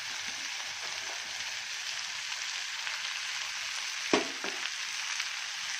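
Byadagi chillies, grated coconut and cashews frying in a pan, giving a steady close crackling sizzle with one sharper clack of a utensil near the end.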